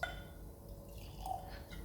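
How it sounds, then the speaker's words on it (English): Glendronach Peated whisky poured into a glass, a faint trickle of liquid with a few soft drip and glassy ringing touches, close and quiet with no talking. "So time to pour a glass."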